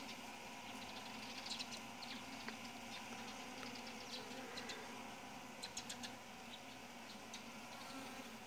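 Soft, continuous buzzing of a swarm of native Korean honeybees hovering nearby, a steady drone with scattered brief clicks and ticks over a hushed outdoor background.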